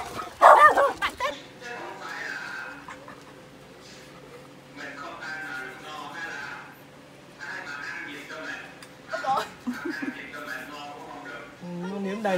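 An excited dog greeting visitors, whimpering and yipping with a few sharp barks close by, while people talk over it throughout.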